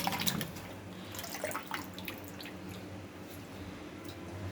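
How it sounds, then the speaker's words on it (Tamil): Hibiscus flowers are rinsed in water, giving soft splashes, drips and wet squishing sounds that come close and irregularly, loudest at the start and then easing into gentle trickles. "இதை நல்லா அலசி எடுத்துக்கலாங்க."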